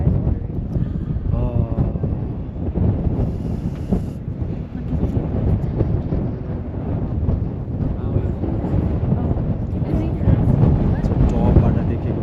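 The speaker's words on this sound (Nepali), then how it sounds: "टपमा त चिसो चिसो रहेछ हावा एकदम चलेको" Strong, cold wind buffets the microphone at the summit of Pikes Peak in Colorado, making a loud, continuous roar as people talk throughout.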